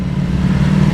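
A BMW S1000R motorcycle engine runs with a loud, steady low growl for about a second, close and continuous with no talking.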